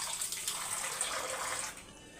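A glass of water poured into a cooking pan with ground spice paste, a steady close gush for nearly two seconds that then tapers off.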